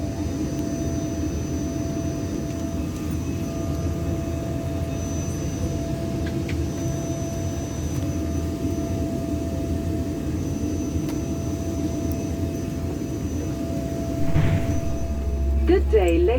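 Steady cabin drone of an airliner in flight with a constant engine hum and airflow roar throughout, and a brief rustle and thump near the end.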